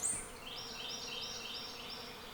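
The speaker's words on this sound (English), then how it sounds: "I can still hear them swarming, but I think they're finally moving away" A honeybee swarm in a tree, heard as a steady faint buzzing drone that carries on throughout, with no voices over it.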